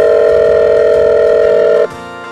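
A smart fridge places a phone call in a kitchen, giving a loud steady dial tone that holds for about two seconds and then cuts off abruptly.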